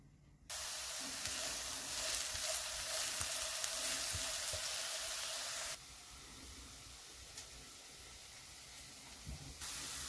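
Steady loud sizzling of diced chicken breast and onion frying in a hot pan, a continuous hiss that drops slightly partway through, with faint scraping and stirring underneath.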